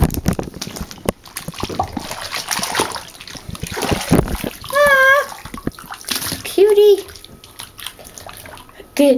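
Water fills a bathtub in the Webkinz video game with splashing and trickling bursts, mixed with short chirpy game tones, while a young person talks over it throughout.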